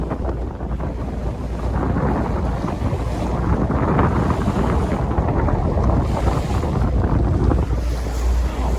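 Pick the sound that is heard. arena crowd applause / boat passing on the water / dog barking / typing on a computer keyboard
boat passing on the water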